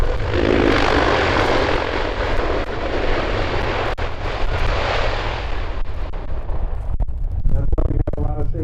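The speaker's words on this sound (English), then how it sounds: "A Boeing 767 has to go around because an A330 is still taking off" The engines of a Boeing 767 airliner roar loudly during a go-around, a heavy, sustained, close rumble that fades slightly near the end.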